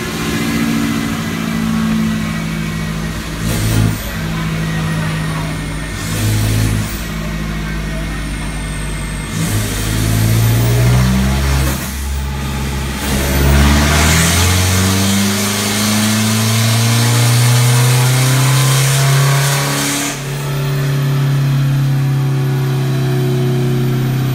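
A remapped Isuzu D-Max 1.9 engine revs at full throttle on a dyno, a loud, close mechanical roar that climbs steadily in pitch through the run, then drops back and settles.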